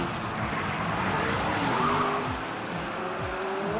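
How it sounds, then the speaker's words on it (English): Hot Wheels diecast cars racing down a track, a continuous close rolling rush with several quick descending whooshes as cars pass through a turn and drop, alone without talk. "Colt Fierce taking charge, a generous lead into turn 1 and through the drop"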